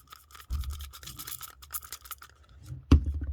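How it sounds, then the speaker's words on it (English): A toothbrush scrubs rubbing alcohol over the gears of an old Talker toy, with short bursts of bristly rubbing and scratching, close and fairly quiet, ending in a sharper knock. "And then you take a toothbrush and you just start cleaning it off."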